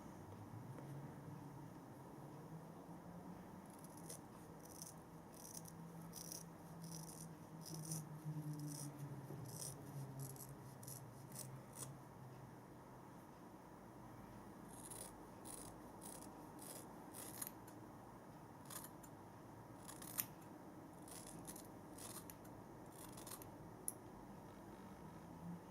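Scissors trimming a hair fringe at home, repeated soft snips in irregular bursts close to the microphone, with faint rubbing between cuts and no talking.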